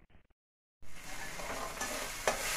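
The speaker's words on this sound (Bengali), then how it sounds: "আমার মশলাটা ভাজা হয়ে গেছে, আমি এর মধ্যে দিয়ে দেবো চিংড়ি মাছটা" Spices fry in a pan after a brief silence: a steady, close, broadband sizzle with small stirring scrapes and one sharper clink near the end.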